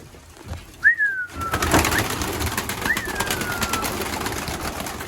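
Two descending cooing bird calls, about two seconds apart, over steady outdoor background noise at a bird sanctuary in Turkey.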